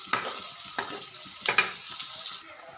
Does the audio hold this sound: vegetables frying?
yes